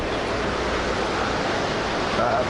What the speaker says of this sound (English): there's a river here, so we'll hear a little bit of water sound